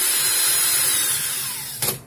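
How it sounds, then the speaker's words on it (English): A power drill runs in reverse, spinning a coil core to loosen Clapton wire during a coil build; a steady, close whirring motor hum holds for about two seconds, then a brief louder rattle near the end. "I'm going to put my drill in reverse"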